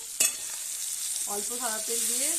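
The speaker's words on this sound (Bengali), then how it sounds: "এবার এখানে আমি কড়াই সাদা তেল দিয়ে" White cooking oil sizzles and hisses steadily in a kadai, a faint broadband frying hiss under a brief clatter near the start; a voice speaks through the second half.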